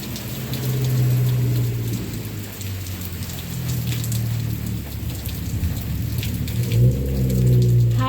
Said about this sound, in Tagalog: Maya pa ang hinto nitong ulan na to.